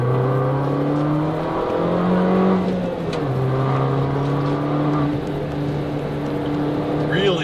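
Abarth car engine pulling hard on turbo boost, a steady loud droning note with rising tone, heard from inside the cabin while someone talks over it.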